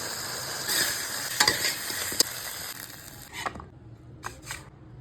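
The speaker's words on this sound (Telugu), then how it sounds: "ఇప్పుడు ఏంచుకున్న బెండకాయలు అయితే వేసుకుందాం ఇప్పుడు బెండకాయ మంచూరియా బాగా కలిసిపోయింది" Korean-style okra manchurian being stirred through sauce in a pan, with soft scraping and faint sizzling for about three seconds before it goes quieter, leaving a few light clicks and scrapes.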